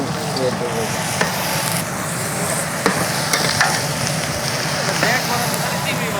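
Prawns sizzle and crackle in hot oil in a pan while being stirred, with a steady frying hiss and occasional clinks of a utensil, as someone talks over the cooking.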